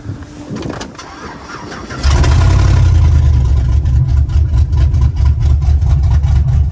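A cammed Chevrolet Silverado truck engine cranks briefly, then fires into a loud, deep idle with a lumpy, rhythmic loping pulse that carries on close by.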